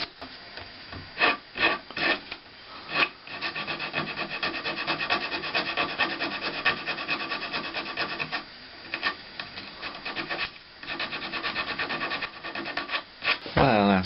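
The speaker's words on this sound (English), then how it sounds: "some filing on the braces to make it a nice round over" Wooden braces for a bandurria are filed and sanded in close, rapid rasping strokes, with a few isolated scrapes at first and then a long continuous stretch of abrasive rubbing broken by brief pauses.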